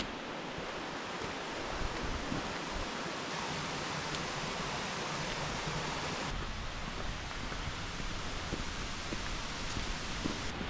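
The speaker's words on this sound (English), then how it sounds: "here's that lovely waterfall with the incredible view" A waterfall in Alva Glen in the Ochils pours steadily as a dense, even broadband rush, with a slight shift in tone partway through and no voices.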